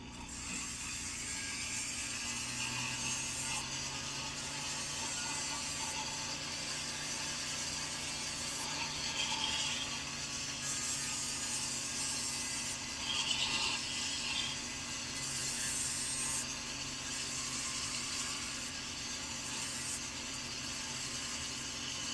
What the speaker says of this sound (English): we're just going to file these two ends evenly so that they're flat